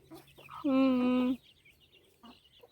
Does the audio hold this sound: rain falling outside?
no